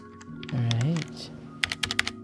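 Mechanical keyboard with Outemu Red switches and white ABS double-shot keycaps, a TKL board, gives a short burst of quick clacky keystrokes near the end, after a brief murmur of a voice.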